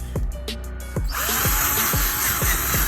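Power drill whirring in short repeated bursts, then running steadily with a rhythmic grinding pulse, close up and fairly loud, during a Rolls-Royce starlight headliner install.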